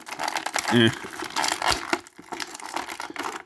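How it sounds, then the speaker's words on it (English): Plastic crinkling and rustling as Hasbro G.I. Joe Classified Series Python Patrol Viper action figures are pulled from their plastic packaging tray, up close, with someone talking over the handling throughout. "you like hearing the sound of plastic toys coming out of a plastic tray"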